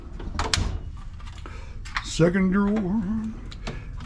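A metal tool box drawer holding end wrenches is pulled open, giving a short scraping slide and rattle of tools near the start, followed by a drawn-out tonal rumble, with someone talking.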